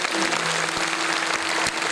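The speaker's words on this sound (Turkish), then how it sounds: "Güçlü bir alkış istiyor yalnız." Steady, dense audience applause at a live stage recital, a loud continuous wash of many hands clapping with no gaps, heard alone for a couple of seconds.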